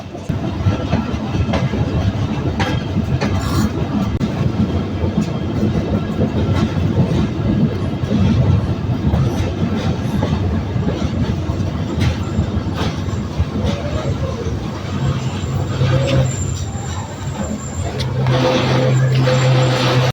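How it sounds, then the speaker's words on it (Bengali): The Nakshikantha commuter train, departing toward Rajbari, makes a loud, continuous rumble with rattling wagons and rhythmic clickety-clack from the wheels on the track. "অবশেষে 11:46 আমাদের ট্রেনটি রাজবাড়ির উদ্দেশ্যে ছেড়ে গেল।"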